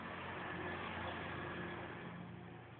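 An automatic egg incubator machine, switched on and running, gives a steady low mechanical hum and whir that holds evenly throughout, with no talking.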